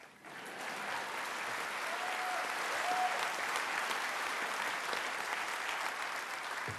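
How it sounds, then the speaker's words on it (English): Steady applause from a large crowd at a Victorian Labor campaign launch, a dense even clatter of clapping that swells slightly and holds for several seconds, heard alone without speech. "that's worth a clap."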